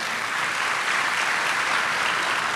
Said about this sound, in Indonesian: Oh tepuk tangan dulu, silakan.